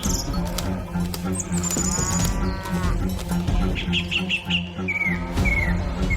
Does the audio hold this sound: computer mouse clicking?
no